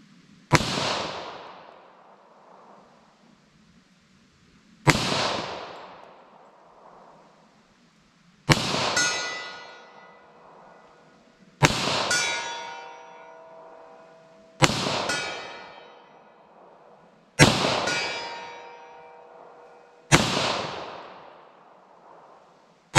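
HTP hollow point rounds fired one at a time, seven sharp loud gunshots spaced about three to four seconds apart, each with a ringing metallic tail that decays before the next shot, no talking.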